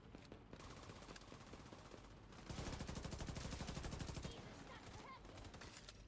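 Rapid automatic gunfire in The Division 2, rattling in long continuous bursts, loud and close, with a denser, heavier volley in the middle.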